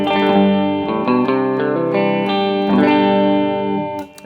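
An electric guitar on its middle pickup plays a short phrase through a LEKATO B-Breaker effects pedal set about three-quarters gain, giving bright, sustained, slightly driven notes that ring close and loud, then fade at the end.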